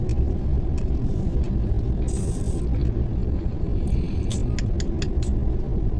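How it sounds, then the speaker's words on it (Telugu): Heavy road traffic with lorries passing, a dense low rumble of engines and tyres that runs continuously, with faint high clicks and squeaks scattered near the end. "లారీలు ఫుల్ ట్రాఫిక్ ఏంట్రా నాయన"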